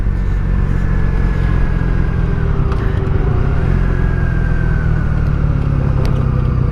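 1983 Honda V45 Sabre VF750S motorcycle V4 engine idling at about 1200 rpm: a loud, steady, close rumble with a slight pitch shift partway through and no speech.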